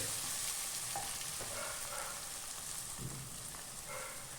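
Spice powders are stirred into tomatoes cooking for a chicken curry, giving a steady soft sizzle from the pan with a few scraping stirs now and then, close and quiet, with no talking.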